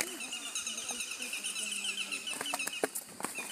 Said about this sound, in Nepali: यसरी चरा कराउँछन्